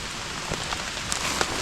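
Rain falls steadily outdoors during mushroom foraging, a dense continuous patter with a few sharper drops standing out, moderate in level and without voices.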